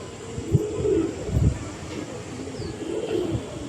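Andra tournament pigeons coo in soft, low repeated bursts, several throaty calls close by over faint background noise.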